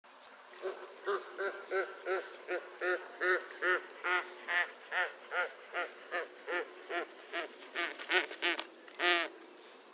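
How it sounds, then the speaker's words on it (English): White ibis calling in a steady series of about twenty hoarse, honking notes, evenly spaced and moderately loud, with no talk. "Here's the call of the white ibis."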